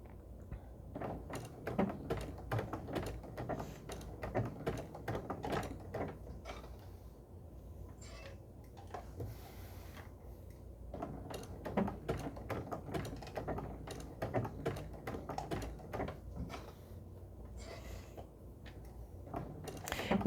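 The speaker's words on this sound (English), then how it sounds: "And then we'll do another 2 or 3 stitches just barely inside that applique fabric." A sewing machine stitches around applique fabric in short bursts of rapid mechanical clatter, quiet and close, pausing briefly midway before resuming the rhythmic needle chatter.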